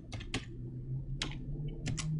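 Several quick bursts of computer keyboard typing, close and fairly quiet, coming in short clusters with brief pauses between.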